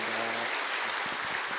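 Church congregation applauding during a Sunday Easter service, a dense continuous patter of many hands, even and fairly soft, with a low voice fading out at the start.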